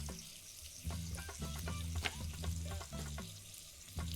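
Onions, carrots and green chilies frying in a pan in the Venba video game, a steady close sizzle with soft stirring clatter and no talk.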